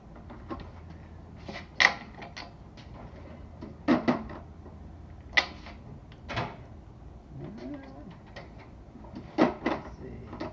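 Metal clicks and clunks of a socket wrench at work while a switch is removed from a Nissan manual transmission, several sharp separate knocks spread out with quiet gaps between them.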